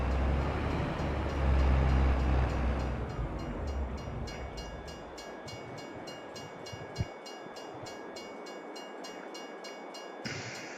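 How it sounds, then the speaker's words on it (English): A train rumbles past in the Upper Mississippi River Valley, a deep low roar that fades into rhythmic clickety-clack of railcars rolling by at moderate distance, with a steady tone running underneath and no talk. "Oh, I just missed the train."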